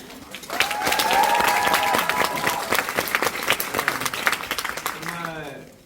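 Audience applause at the closing-performance stage greeting of the musical Ludwig in a theater, a dense sustained clapping from a large crowd with cheering voices over it before it thins out.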